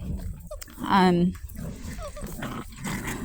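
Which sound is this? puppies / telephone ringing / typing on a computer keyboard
puppies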